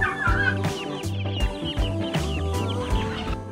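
A chicken hen clucks repeatedly in short, irregular bursts, fairly close and alone without talk, with a few sharper squawks mixed in.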